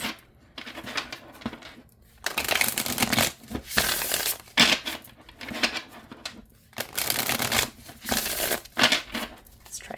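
Venus Morningstar Tarot cards being shuffled by hand, a new deck with smooth cardstock, heard as repeated close bursts of riffling and sliding patter separated by brief pauses.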